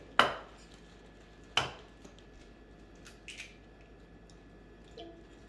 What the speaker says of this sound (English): you have to crack the egg in a different bowl, so there's no eggshells in the other bowls